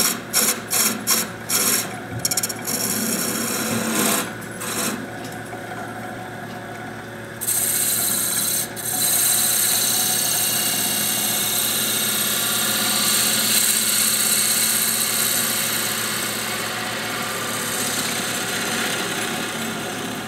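Wood turning on a lathe while a long-stem goblet's base is cleaned up, with steady loud rasping and rubbing of the tool against spinning wood over a motor hum, broken by a few short scrapes near the start.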